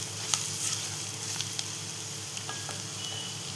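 Lentil curry (moong dal amti) sizzling in a frying pan as garam masala is stirred in, a steady close crackle with a few light spoon scrapes and clicks.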